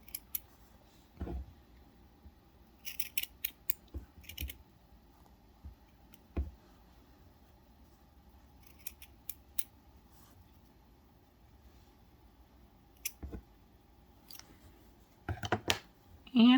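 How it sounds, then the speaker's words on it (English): Scissors snip out a triangle shape for a crochet pumpkin bag's eyes and nose, a few short crisp cuts spaced across a quiet room, close and clear with long pauses between bursts. "So what I like to do is cut out one triangle."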